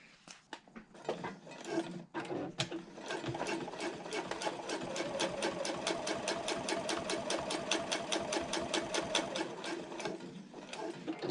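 A sewing machine topstitching a handbag strap and handle connector runs in a fast, even needle rhythm at close range after a few clunks as it starts, holding a steady pace.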